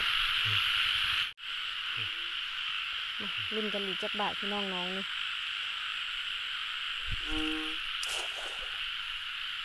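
Large frogs croak in short bursts during the first rain of the year while people are out netting them. The croaks fall irregularly over a steady insect drone, and people talk nearby.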